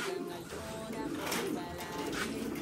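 Red grizzle pigeons cooing softly nearby in a loft, low throaty coos repeating over a background of faint rustling and handling.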